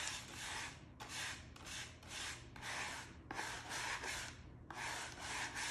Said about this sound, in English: Just scrape that right across.